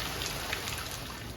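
A steady rain hisses down outdoors at a mountain lodge along the Appalachian Trail, a soft, even wash of drops with no other sounds standing out.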